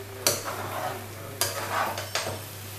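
Spoon stirring semolina upma in a pan gives three sharp scraping strokes at roughly one-second intervals over a soft sizzle and a low steady hum, with no voices.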